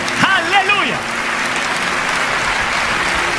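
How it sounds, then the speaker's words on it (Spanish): A church congregation applauds at a sermon, dense, sustained clapping filling the room, with a preacher's voice briefly rising over it at the start. "Denle un aplauso al Señor de señores y al Rey de reyes."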